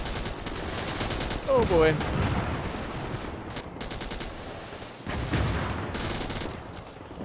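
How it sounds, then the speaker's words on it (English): A tank's coaxial machine gun fires in a Desert Storm campaign mod for a tank warfare game: repeated bursts of automatic fire over a busy battlefield din, with a brief spoken exclamation partway through. "Let's just fire the troops there with the coaxial."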